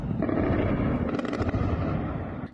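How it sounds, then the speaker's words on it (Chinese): Blasts ring out over Tehran during an Israeli strike, a dense, continuous rumble of explosions with a burst of sharper cracking cracks partway through, loud and sustained without any talk. "德黑兰传出阵阵爆炸声，夜空冒出点点火光"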